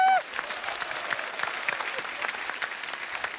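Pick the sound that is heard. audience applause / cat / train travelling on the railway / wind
audience applause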